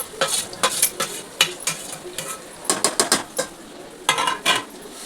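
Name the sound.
chicken added and stirred into pan with softened onions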